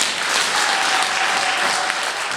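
Applause from the audience at a gospel album launch, a dense, steady roar of many hands clapping, loud and continuous throughout.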